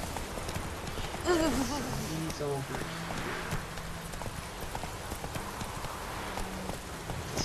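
Steady clip-clop of a horse's hooves in The Witcher 3, a rhythmic, fairly close gallop running under constant game ambience while someone speaks briefly.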